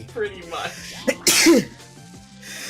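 A single sharp sneeze bursts out mid-conversation, close and loud, with people talking before and after it.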